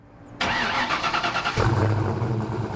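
A Ford Mustang engine cranks and fires on an Indiana morning, a brief starter whir giving way to a loud catch and then a choppy, lumpy idle that throbs steadily close by.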